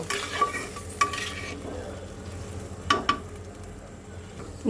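Potato and soybean curry masala being stirred in a pan, a soft continuous sizzle with a few sharp scrapes and clinks of the spoon against the metal, close and steady with no talking.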